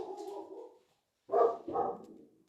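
A muffled, distant dog gives a low drawn-out woof followed by two short barks, with silence between.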